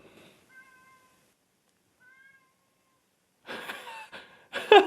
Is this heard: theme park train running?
no